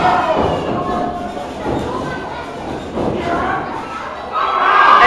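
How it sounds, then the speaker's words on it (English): A crowd at an independent pro wrestling show cheers and stirs with rising noise and a few thuds, heard under close, continuous commentary. "listen to this crowd start to come alive for the macabre one himself, Gory"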